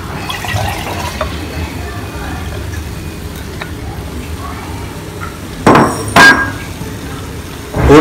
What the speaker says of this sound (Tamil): இந்த டம்ளரில் 3¾ டம்ளர் தான் நான் ஊற்ற போகிறேன்